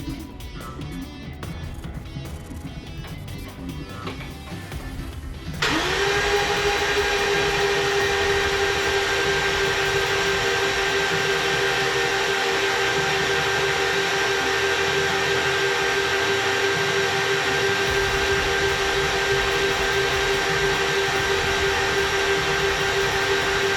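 A car engine being prepared for its first start, on a Ram build, is cranked over by its starter for oil pressure, a loud steady droning whir that kicks in after a few seconds of workshop noise and holds without a break.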